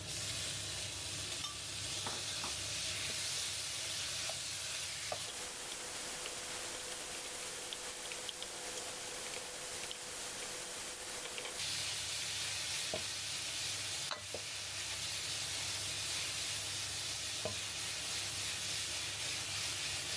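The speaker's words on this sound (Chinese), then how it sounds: "最后倒入刚才炒好的牛肉，" Beef stir-fried in a hot wok gives a steady bright sizzle and hiss, with intermittent scraping clinks of the utensil against the pan and a quieter stretch in the middle.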